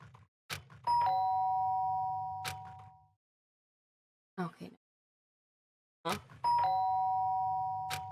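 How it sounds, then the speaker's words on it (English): A doorbell in the video game Danganronpa rings twice, a clear ding-dong that hangs and fades, with a brief murmured voice in the quiet gap between the two rings. "A sharp sound of a doorbell piercing my gaze and pulled me back to the real world"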